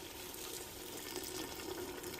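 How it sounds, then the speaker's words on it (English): Hot water pouring into a pot of meat being prepared for boiling in a home kitchen, a steady continuous splashing and rushing of liquid, close and fairly quiet, with no talk. "So what I'm gonna do now is add the hot water to it."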